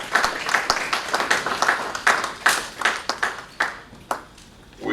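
Scattered audience applause at an aviation careers conference, individual claps standing out sharply in an uneven rhythm, thinning toward the end, with no talking over it.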